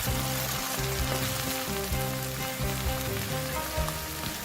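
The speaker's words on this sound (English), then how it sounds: "Turn the flame down to a low medium and fry the sardines for a minute." Tinned sardines fry in a pan over low-medium heat, giving a close, even sizzle and crackle throughout with some low clatter underneath.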